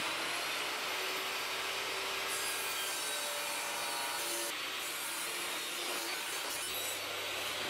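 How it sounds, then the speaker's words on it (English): Wooden parts for a Pantorouter XL build are sanded with a steady, hissing scrub that runs continuously and fairly close, with no talk over it. "I've started sanding some of them"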